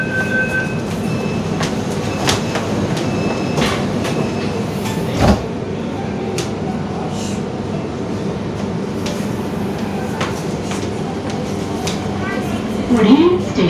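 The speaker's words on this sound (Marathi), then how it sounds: "सिव्हिल कोर्टहून निघाल्यावर पिंपरी चिंचवडला जाणारी मेट्रो ट्रेन 2 ते 3 मिनिटांमध्ये शिवाजीनगर मेट्रो स्टेशनला" Pune metro train running between Civil Court and Shivajinagar stations, a steady close rumble of wheels and carriage noise with a brief loud knock partway through and faint talk in the cabin.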